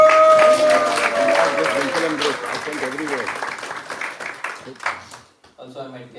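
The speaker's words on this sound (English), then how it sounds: "Let's give them a round of applause." Audience applause at a devotional gathering, a dense burst of many hands that gradually thins out and fades, with a voice talking over it and a lingering tone at the start.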